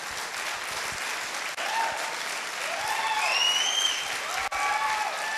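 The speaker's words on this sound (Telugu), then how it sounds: "ఒకసారి బిగ్ రౌండ్ ఆఫ్ అప్లాజ్ చేయాలి" Sustained audience applause at a corporate carnival celebration, a steady dense wash of clapping with crowd noise throughout, joined by faint whistles and rising cheers in the middle.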